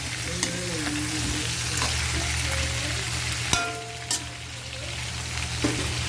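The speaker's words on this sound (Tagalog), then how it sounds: "O ngayon, ilalagay na natin ang ating hipon." Shrimp sizzling in hot oil in a pan, with a steady crackling hiss close by, a few sharp pops, and faint tonal sounds in the background.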